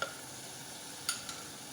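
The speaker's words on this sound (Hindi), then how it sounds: "हमें 10 से 15 मिनट हो गए इसको भूनते हुए" Minced meat fries with ginger-garlic paste in a pan, giving a steady, faint sizzle close by. A few soft clicks of a spoon against the pan stand out briefly.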